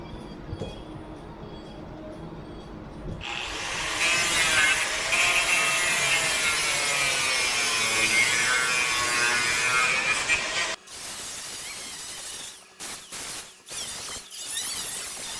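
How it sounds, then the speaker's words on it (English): An angle grinder cuts protruding ears off a steel plate inside a garbage truck, a loud sustained whining grind with a wavering pitch after a quieter start, then stopping and giving way to intermittent short bursts. "Let's start by cutting off those nasty ears coming off the plate."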